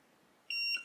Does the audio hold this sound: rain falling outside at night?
no